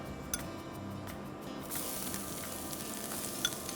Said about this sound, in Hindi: ये मिर्ची डालेंगे,